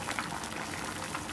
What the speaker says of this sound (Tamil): இப்போ பார்த்தீங்கன்னா சென்டரில் வந்து கொதிக்கவே இல்லை பாருங்கள், சுற்றியும் மட்டும்தான் கொதிச்சிட்ருக்கு.